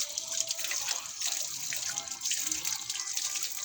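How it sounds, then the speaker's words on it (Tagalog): Tap water runs steadily into a dish of cat wet food, a close continuous splashing trickle with no talk. "Okay, lagyan natin konting tubig."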